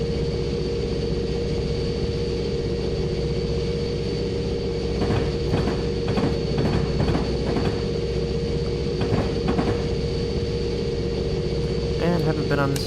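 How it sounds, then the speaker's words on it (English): Locomotive in Train Sim rumbling steadily along the tracks after powering back up, a constant low mechanical drone with a faint tonal hum and occasional clanks and rattles from the wagons, with a voice talking over it. "We will power back up and keep on heading down the tracks."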